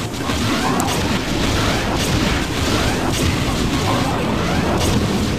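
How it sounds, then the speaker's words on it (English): The BFG fires in Sonic Doom, a Doom game with Sonic elements, producing a loud, continuous roaring blast of dense noise that stays intense and unbroken for the whole stretch. "Say hello to the BFG, motherfucker! The big fucking gun."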